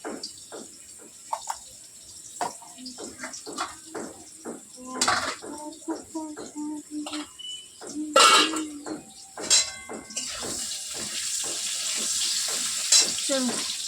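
Potatoes frying in a home kitchen pan, with scattered clanks of pots and utensils and brief faint voices early on, then a broad, steady sizzle that swells and holds near the end.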